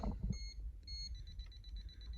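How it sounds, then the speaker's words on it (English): A handheld voltage tester held near a live outlet gives faint, rapid repeating high beeps over low background hum, with no one speaking. "When you see voltage, it'll turn red and beep really quick."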